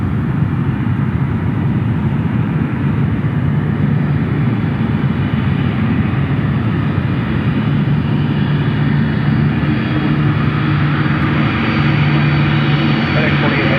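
Aircraft at Memphis International Airport, a loud continuous engine roar that holds steady throughout, with a faint tonal hum running underneath.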